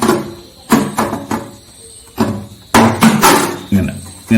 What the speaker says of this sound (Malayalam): ഇതിപ്പോ നമ്മൾ കട്ടർ ഉപയോഗിച്ച് കട്ട് ചെയ്തു